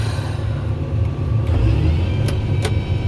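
A John Deere 8020 series farm tractor's diesel engine runs with a steady, loud low rumble throughout, a few faint higher clicks riding on top near the end.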